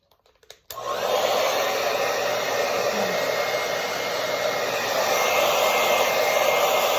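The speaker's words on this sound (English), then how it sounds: "I've already got the blow dryer ready." A hair dryer switches on and blows steadily, a loud, even whoosh of air that continues without a break.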